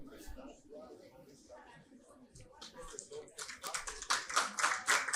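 An auditorium audience at a Brazilian talk on overseas opportunities claps softly, scattered quiet taps that swell into fuller clapping toward the end, with talking heard at the start.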